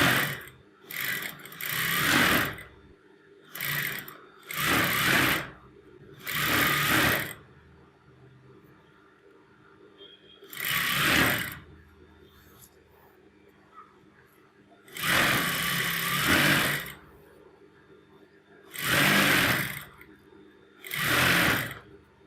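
A sewing machine stitches a kanchli blouse in short bursts, its close mechanical whir starting and stopping repeatedly with quiet gaps between runs of stitching.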